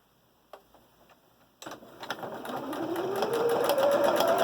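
Sewing machine stitching down the middle of a folded fabric mask, starting with a few faint clicks before a steady, rapid mechanical whir builds and grows louder and denser toward the end.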